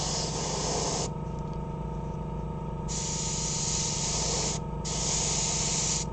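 Spray paint hisses steadily in long bursts as a light medium-gray base coat goes over a model spaceship, with a short pause between sprays and a brief break near the end.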